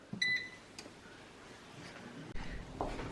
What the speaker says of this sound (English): my air fryer just beeped